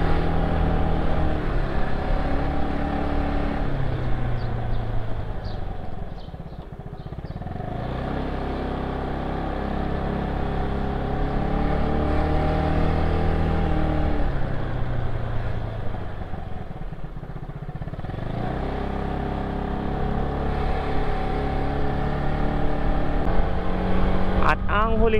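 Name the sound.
motorcycle riding at 50 km/h, recorded on GoPro Hero 8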